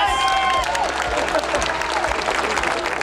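Crowd applause and cheering at a national garden landscaping competition as the winning team is announced, steady clapping with a few whoops and whistles near the start, continuing throughout.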